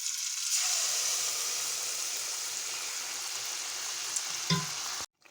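Wheat-flour milk pooris with jaggery sizzle steadily in hot oil in a pan, a dense continuous frying hiss with soft bubbling that runs without pause, then cuts off abruptly near the end.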